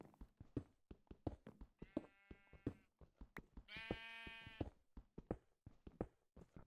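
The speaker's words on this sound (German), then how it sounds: "Blöde Schafe." Sheep in the video game Kelea bleat twice in drawn-out, wavering calls amid a steady stream of close clicking and knocking sounds.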